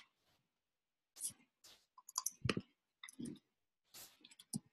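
Computer keyboard typing in a quiet room, a few scattered bursts of keystroke clicks with pauses between them, fairly faint and alone.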